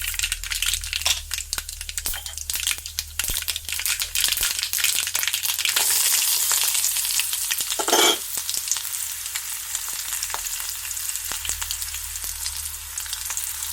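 Mustard seeds spluttering in hot oil in a home kitchen, a continuous close crackle and sizzle dotted with sharp pops and the scrape of stirring, steady and loud with no voices.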